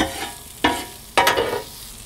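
Low steady sizzling of ginger and garlic frying in a pan, broken by two loud bursts of crackling as something is stirred or tossed in, fading gradually afterward.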